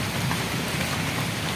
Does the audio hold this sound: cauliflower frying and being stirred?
no